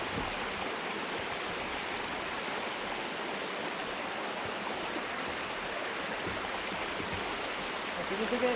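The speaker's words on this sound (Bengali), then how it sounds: "এখান থেকে এই যে ঝর্ণাটা রয়েছে এটা কিন্তু খুব নিচু, মানে আস্তে আস্তে আসছে।" A small, low waterfall stream in Araku Valley, a faint, steady rushing wash of water that stays even throughout.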